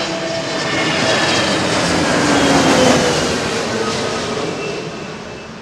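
An airliner flaring to land at London Heathrow Airport roars loudly overhead, its jet noise swelling to a peak midway and then slowly easing off, heard alone.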